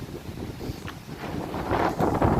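Gusty wind buffets the microphone at Ross Castle in Killarney under cloudy skies, rumbling and rising in strength toward the end, with no voices heard.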